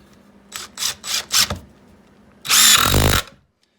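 A DeWalt 20V Max brushed drill driving into wood, four short whirring bursts, then a louder sustained run of about a second, close and with no talking.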